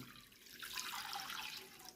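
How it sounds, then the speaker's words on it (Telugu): Water pours steadily into a pot for a couple of seconds, a soft, close splashing stream with no voices. "అందులో 400 మిల్లీలీటర్ వాటర్ వేస్తున్నాను"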